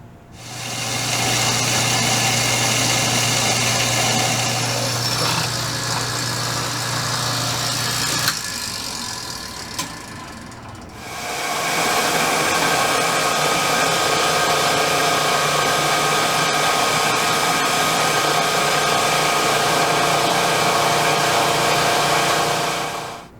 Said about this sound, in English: Probably cut it off in my bandsaw like I did before